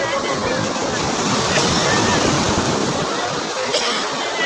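Sea surf washing steadily onto a beach at Puri as a fishing boat is hauled ashore from the ocean, a continuous loud roar of breaking waves with wind noise and no clear pauses.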